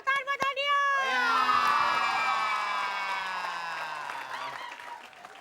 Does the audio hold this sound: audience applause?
yes